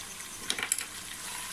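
Salt, cumin and ajwain being stirred in a pot for chicken pulao, soft scraping and light sizzling with a few quick clinks, faint and close, no voices.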